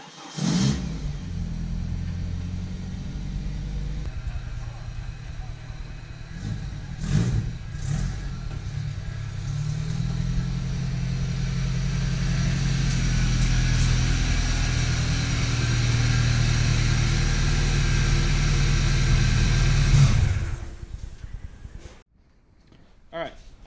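Ford Pinto car engine cranking, catching and revving hard after being refuelled, a loud sustained rumble with rising and falling revs across about twenty seconds before cutting off abruptly.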